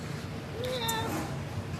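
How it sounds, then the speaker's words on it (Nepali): A single short cat meow from a cat kept at a company workplace in South Korea, faint and close, rising then falling over a steady low background hum. "हाम्रो कम्पनीको बिरालो हेर्नु नि यस्तो दामी छ नि यो"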